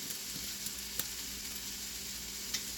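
Bacon strips sizzle steadily in a pan with a dense, crackling hiss and a few sharper pops, with no voices, heard close and moderately loud throughout.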